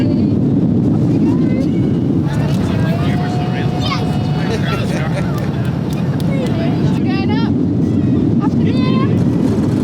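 A steady, loud jet engine roar from an easyJet airliner's takeoff roll fills the cabin throughout, rumbling and unbroken, with faint voices and occasional chimes barely showing beneath it.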